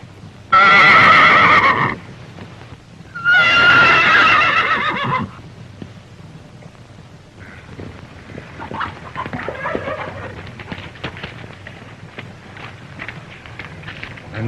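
A horse gives two loud, close whinnies in succession, followed by softer rustling and hoof movement, with no talking.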